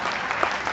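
Steady, dense audience applause at a live song performance, a continuous close wash of clapping with faint voices mixed in.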